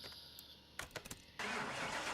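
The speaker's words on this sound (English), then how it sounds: "I started the engine thinking that might work, it didn't." Car engine cranking and catching to a steady idle in Car Mechanic Simulator 21 on PS4, a 1978 Bolt Chapman rebuild, with a few short bursts followed by a continuous loud hum.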